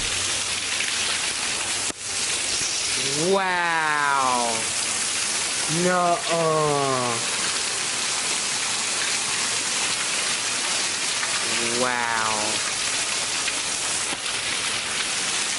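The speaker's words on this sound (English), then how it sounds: "It's just really pouring down rain, guys." Heavy rain pours down in a constant loud hiss, while a person exclaims in surprise a few times over it.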